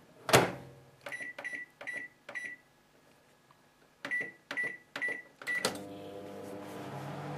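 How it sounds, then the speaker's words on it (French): Microwave oven used to melt dark chocolate at 500 watts: a sharp door clunk, then a series of short control-panel beeps and clicks, followed by the oven starting with a low steady hum. "ce sera au micro-ondes"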